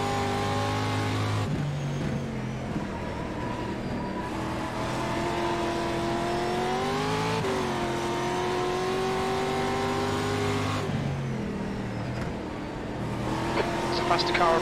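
Race car engines in an iRacing-style sim at Lime Rock, with a loud, sustained roar that rises and falls in pitch through shifts as another car closes in. A spotter's voice speaks over the engine.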